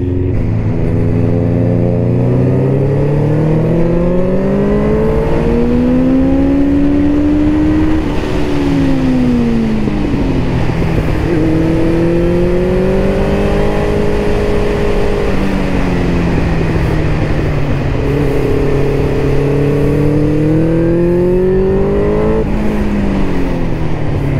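A car revs and accelerates hard to warm up its tyres, the engine note climbing and falling in repeated loud sweeps over about twenty-four seconds with no talking.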